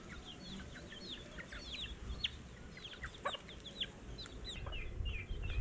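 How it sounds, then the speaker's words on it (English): Wild chickens in the Virgin Islands cluck and chirp over and over, scattered short calls against a steady outdoor background hum, fairly faint and at a moderate distance. "We got the wild chickens"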